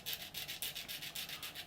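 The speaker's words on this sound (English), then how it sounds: "we just square that up with a bit of a sanding stick" A sanding stick is worked back and forth over a plastic part from a Revell 1/32 Me 262 model kit, giving about a dozen quick, even, close scratchy strokes with no talk.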